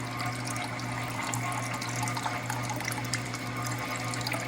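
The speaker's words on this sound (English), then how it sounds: "there's the pump running right there" A small coolant pump sits in a bucket of water and pushes water through a Fusor's cooling lines, making a steady close hum with a constant watery rush and trickle and no break.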